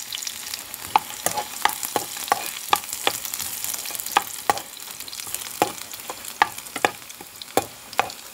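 Garlic fries in oil for a pineapple masala, with a continuous crackling sizzle punctuated by many sharp pops and spatters, close and fairly loud with no voices.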